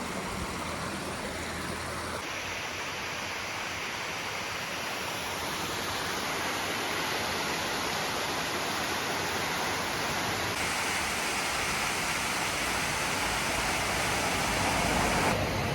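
Glen Falls, a large waterfall right beside a narrow road in Vermont, gives a steady broadband roar of rushing water that stays loud and unbroken throughout, with no voices.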